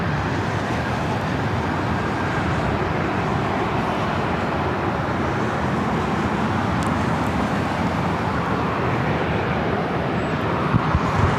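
A Delta Airlines A321neo airliner arriving at LAX from Minneapolis makes a dense, steady rumbling roar that holds at a constant level, blended with a traffic-like wash, with no talk over it.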